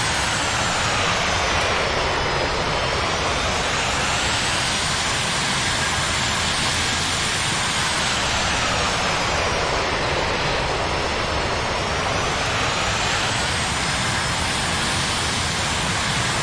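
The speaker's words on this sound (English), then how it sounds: "That's afterburner. You hear that?" A steady, loud roar of an AJS37 Viggen jet on afterburner in the DCS flight simulator fills the whole stretch, with a slow sweeping whoosh that rises and falls in pitch.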